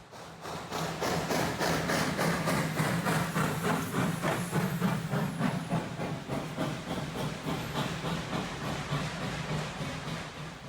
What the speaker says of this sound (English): I lost count of how many times I watched this train pass by